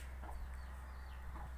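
Chickens cluck softly inside a shed where they are kept, a few faint clucks scattered over steady background hum.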